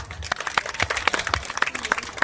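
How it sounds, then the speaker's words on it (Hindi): Audience applause welcoming a guest at a Republic Day celebration, scattered claps from a moderate crowd forming an uneven patter, somewhat distant. "एक बार फिर जोरदार तालियों से स्वागत करिए उनका।"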